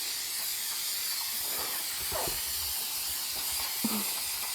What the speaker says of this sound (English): So we're going to spray it down real good